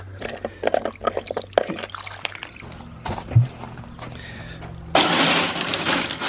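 Water drains out of a Hooked cooler still holding ice, with scattered splashing trickles that swell into a loud steady pour near the end.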